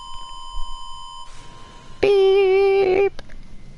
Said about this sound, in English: That beeping kinda startled me.